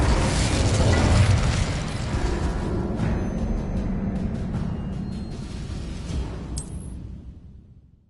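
Casting the Incendio fire spell in Hogwarts Legacy sets off a loud, rumbling burst of flame that roars heavily at first, then thins and fades away over several seconds.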